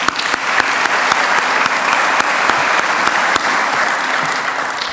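A large audience at a fall 2013 college of education convocation applauds graduates with dense, continuous clapping that stays loud and steady throughout, filling a big hall.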